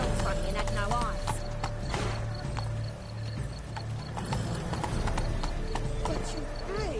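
Horse hooves clip-clop at a steady, close pace under a constant background din, with faint mechanical creaks and occasional vocal sounds mixed in.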